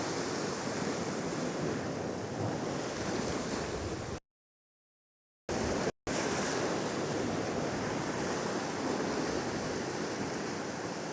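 Ocean swell and waves washing over a reef, a continuous loud roar of surf with wind buffeting the microphone, broken by a short silent gap partway through.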